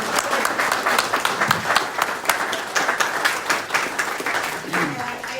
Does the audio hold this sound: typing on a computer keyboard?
no